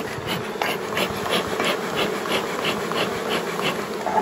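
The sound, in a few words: honey bees buzzing around a mini-plus hive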